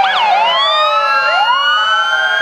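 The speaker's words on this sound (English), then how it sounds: "We got two police cruisers tonight." Police cruiser sirens in a parade, loud wailing tones sweeping up and down and overlapping one another, close and continuous with no talk.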